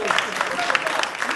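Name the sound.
studio audience applause for guest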